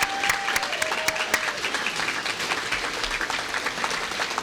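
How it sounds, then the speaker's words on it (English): An audience at the Anaheim Hills 8th grade graduation applauds junior high students, dense clapping with sharp individual claps standing out, steady and moderately loud across the clip. "give them a well-rounded applause."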